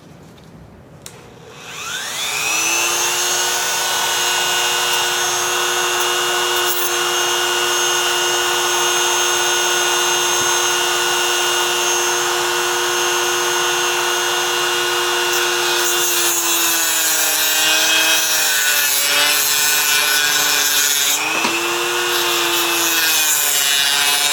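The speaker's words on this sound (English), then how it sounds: "I use a Dremel, it seems to work the best" A Dremel rotary tool grinds steadily on a Briggs & Stratton ignition coil, spinning up at the start and then holding a loud, continuous high whine with slight pitch dips near the end, no talking.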